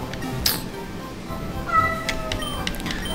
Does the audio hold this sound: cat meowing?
yes